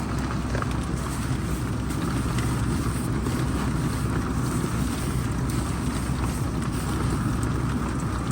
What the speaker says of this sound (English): we've got our heater going, as you can hear in the background